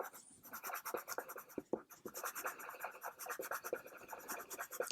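A colouring pencil rubbing back and forth on paper while drawing a Chitty Chitty Bang Bang car, close, rapid scratchy strokes in a steady rhythm with brief pauses.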